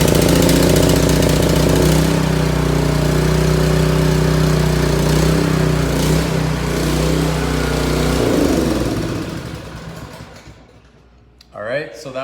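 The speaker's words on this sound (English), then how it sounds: "so that was a cold start" A small engine, started cold on choke, runs steadily at a loud, close chug, then winds down and falls quiet near the end. A person talks briefly.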